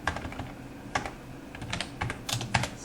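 HTML code is typed on a computer keyboard in quiet, close-up bursts of rapid key clicks with short pauses between them, with no talking.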